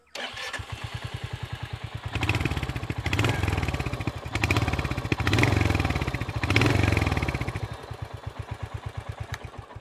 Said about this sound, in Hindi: सो अभी इसके एग्जॉस्ट नोट को एक बार चेकआउट कर लेते हैं।